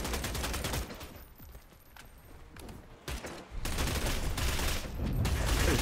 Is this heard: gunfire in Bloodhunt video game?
yes